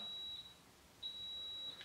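A roller shutter remote receiver gives thin, high electronic beeps while being paired. A sustained tone cuts off, then resumes after a short gap. The sound is faint and steady against a quiet room.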